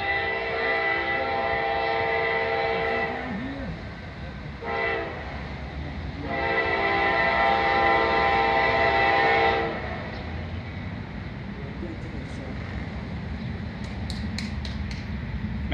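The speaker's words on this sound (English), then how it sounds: "here comes another train" Norfolk Southern freight train led by a Dash 9 locomotive passes close by, its horn sounding in long sustained blasts that cut off and resume, with heavy rolling rumble and wheel clatter beneath and continuing after the horn stops.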